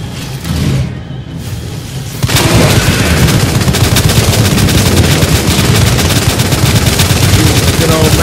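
Rapid video-game gunfire from Resident Evil 2, a loud dense burst of automatic shots rattling continuously after a brief quieter lead-in, with no speech over it.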